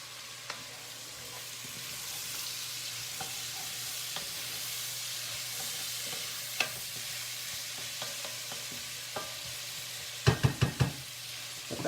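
Vegetarian chili ingredients and coarsely ground spices sizzle in a pot while a wooden spoon stirs them, with a steady frying hiss broken by scattered knocks and a quick burst of scraping clatter near the end.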